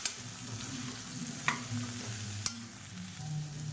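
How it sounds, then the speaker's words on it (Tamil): Drumsticks and brinjal sauté in a pan for a Tamil kulambu, with a soft continuous sizzle and a few sharp spoon taps against the pan. "இப்போ இதையும் ஒரு 2 நிமிஷம் வதக்கிக்கலாம்."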